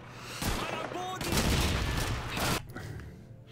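Call of Duty 2 gunfire comes in loud bursts of rapid shots that crackle over battle noise, with a brief pause between two sustained volleys before fading.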